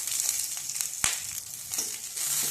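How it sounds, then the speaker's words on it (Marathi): Green chillies roast in a little oil in a pan, giving a soft, continuous hiss with one sharp crackle or pop partway through, close and gentle. "त्यामध्ये थोडंसं तेल टाकून घ्यायचं आणि ह्या मिरच्या आपल्याला चांगल्या भाजून घ्यायच्या आहेत"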